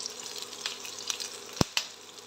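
Cumin seeds frying in hot oil give a quiet, steady crackling sizzle with scattered pops, plus one sharp clack and a smaller knock near the end, close by and without speech.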